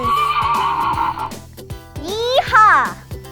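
A horse whinnies loudly near the end, a rising then falling neigh, after a stretch of bright music with steady rhythmic beats.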